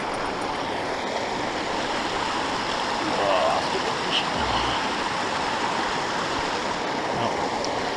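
A high-elevation mountain stream in southwest Utah flows nearby, a steady, unbroken rush of water holding at an even loudness throughout.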